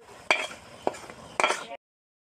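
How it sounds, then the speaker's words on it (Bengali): Onions frying in a pan for a desi chicken curry, three short, sharp stirring scrapes over a faint sizzle, close by, then sudden silence. "এখানে এখন আমি ভেজে নিচ্ছি পেঁয়াজ।"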